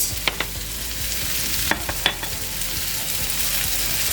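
Chunky red onion pieces sautéing with salt in a pan, a continuous close sizzle punctuated by a few sharp clicks of stirring.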